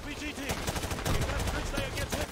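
Rapid bursts of gunfire from the video game Modern Warfare 2 on Veteran difficulty, dense crackling shots running continuously and loud through the whole stretch, with faint talk mixed underneath.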